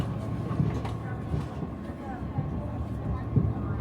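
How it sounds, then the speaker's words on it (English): A London Underground Victoria line train rumbles steadily in a low drone with faint periodic clunks, heard from on board or close by, with indistinct voices murmuring underneath. "just made it in on this train from the Victoria"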